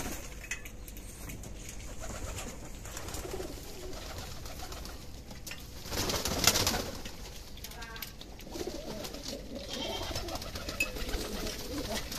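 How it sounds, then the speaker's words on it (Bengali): Domestic pigeons at a farm coo while feeding from a tray, soft repeated throaty calls near and far, with a brief flutter of wings midway over steady low background noise. "দেখেন খাবারের টেরে দিয়ে দুই পাশ থেকে কবুতরগুলো খাচ্ছে, কত সুন্দর লাগতেছে"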